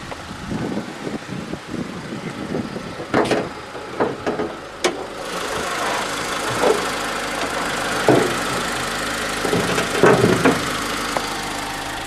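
Engine of a 2005 Honda Civic idling with the hood open, a steady close mechanical hum and rattle with a few brief knocks and clicks over about twelve seconds.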